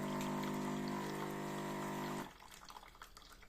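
A DeLonghi ESAM Eco home espresso machine rinses its brew unit as it shuts down, giving a steady pump hum and water flow that stops abruptly, leaving faint trickling and dripping.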